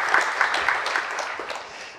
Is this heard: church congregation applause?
yes